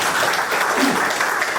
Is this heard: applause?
yes